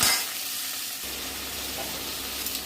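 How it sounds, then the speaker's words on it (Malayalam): Onion and tomato are stirred together in a pan for an egg curry: a soft, steady frying hiss sits under occasional close scraping of the spoon, with a brief louder rush at the start and no speech. "ഉള്ളിയും തക്കാളിയും ചേർത്തിട്ടൊന്ന് ഇളക്കി യോജിപ്പിക്കാം."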